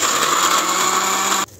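A blender grinds Oreo biscuits into fine powder with a loud, steady whirring roar that cuts off abruptly near the end.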